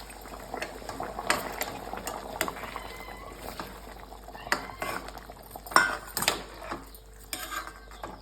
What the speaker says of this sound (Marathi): आता गरम पाणी टाकून देऊ आपण.